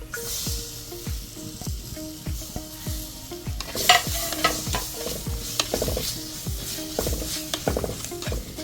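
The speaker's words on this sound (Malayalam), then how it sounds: "ഇനി നമുക്ക് നന്നായിട്ടൊന്ന് ഇളക്കാം അപ്പോൾ നമ്മുടെ പൊടികളൊക്കെ അത്യാവശ്യം ഒന്ന് ചൂടായിട്ടുണ്ട്" Coriander, chili and turmeric powders fry in a pan for a sardine curry with Malabar tamarind, stirred with regular, rhythmic scraping strokes over a continuous close sizzle, no voices.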